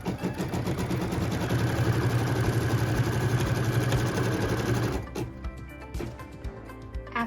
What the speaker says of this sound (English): So what it's stitching now is the tack down line for piece number 2.